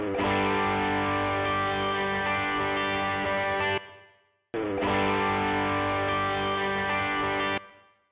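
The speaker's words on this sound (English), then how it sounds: "So here's that guitar with a bit of reverb." Two sustained electric guitar chords, each ringing about four seconds then cut off, with a reverb tail fading briefly after the first.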